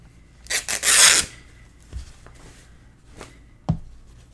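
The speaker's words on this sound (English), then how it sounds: "So I'm just going to cut it so that I have a fairly wide piece to work with" Craft material, likely a sheet of paper or card for an album project, being cut, with a loud rasping burst of cutting near the start followed by several short, sparse snips and taps close by.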